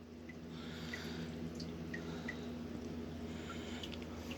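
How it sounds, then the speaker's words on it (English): Water drips steadily, faint scattered drops over a constant low hum for a few seconds. "She's trying to stop the drip."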